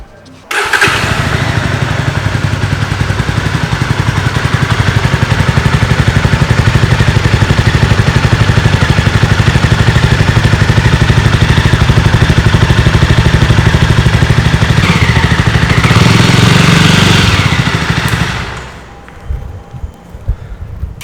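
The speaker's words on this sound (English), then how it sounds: "Now let's hear the exhaust sound of BS6." A BS6 Jawa 42 motorcycle engine runs steadily for about eighteen seconds with a loud, throbbing exhaust rumble, then cuts off, leaving faint clatter.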